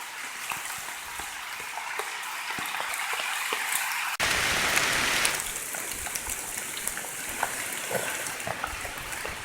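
Rain falling through the woods during a mushroom hunt, a steady hiss of drops on leaves that suddenly thickens into a heavier downpour midway, then settles back to a constant patter.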